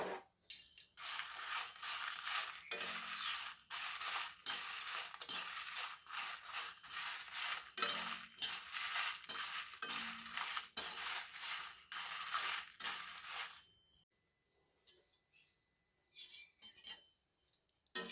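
Dry red chillies and coriander roasting in a pan, stirred and tossed, make rapid dry scraping, rattling and clinking close up for about thirteen seconds before the sound drops to near silence with a few faint taps.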